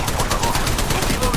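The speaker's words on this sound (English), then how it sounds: "Getting shot at." Gunfire in the video game Apex Legends, a dense burst of rapid automatic shots rattling continuously and loud throughout, with other game sounds mixed in.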